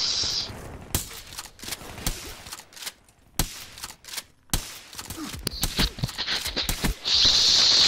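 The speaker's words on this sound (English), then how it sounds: "I literally shot 6 bullets at the guy" Gunfire in a gun game match of a video game: rapid, sharp shots in bursts and single cracks, loud and close, separated by brief quiet gaps, with no talking.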